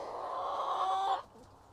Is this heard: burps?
no